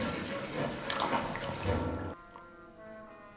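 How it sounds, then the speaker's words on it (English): Water rushes and drains like a toilet flush in a LOST episode, a steady gushing wash that cuts off abruptly partway through, leaving quieter tonal background sound behind. "It's like a toilet flushing."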